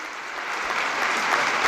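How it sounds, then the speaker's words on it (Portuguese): Standing applause in the Sala Regia for the Pope after his speech on receiving the Charlemagne Prize, a dense wash of clapping from a large gathering that swells slightly and stays loud throughout. "Um aplauso de pé dos presentes na Sala Régia"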